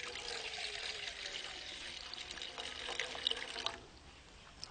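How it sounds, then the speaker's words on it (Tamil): Water from a tumbler being poured into a vessel while preparing an herbal decoction, a steady splashing pour that runs several seconds before stopping, moderately loud and close. "1 டம்ளர் தண்ணி ஊற்றிக்கிறோம்."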